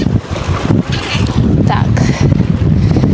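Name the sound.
strong wind blowing on a boat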